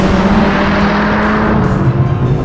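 Two hatchbacks, a Toyota GR Corolla and a Honda Civic Type-R, launch side by side in a drag race, their engines a loud, steady roar that fills the whole moment with no voices.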